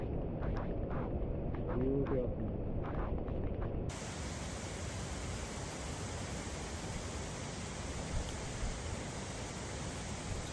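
The Nanemachi waterfall roars in heavy rain, a dense, steady rush of water. Someone talks over it at first, then the roar continues alone, loud and unbroken.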